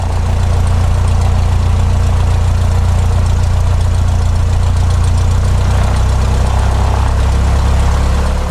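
Cessna 152 light aircraft engine idling before shutdown, a loud, steady low drone with the propeller's throb running unbroken and close throughout.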